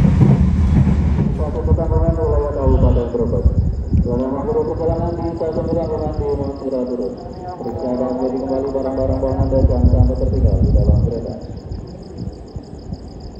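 A business-class passenger train, the Ranggajati, rumbles along the rails with a steady low roar, a high whine rising and falling overhead and a faint repeating chime in the background.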